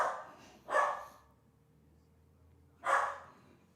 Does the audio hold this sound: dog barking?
yes